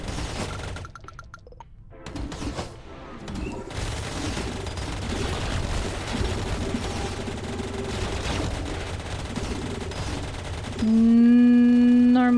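Plasma cannon fire in a video game crackles in dense rapid bursts, a loud chaotic barrage of blasts and booms that ends in a sustained tonal electronic whine.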